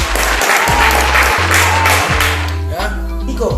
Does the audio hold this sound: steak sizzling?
no